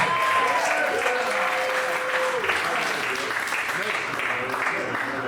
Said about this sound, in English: Keep it going for your host, Bill Squire